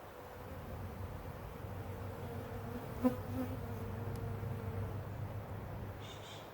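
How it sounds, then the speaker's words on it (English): Honeybees swarm around an open hive with a top feeder of sugar syrup during a first hive inspection, making a steady, continuous low drone with a brief click midway and no talking. "there's always some bees who decide to go swimming in the sugar syrup"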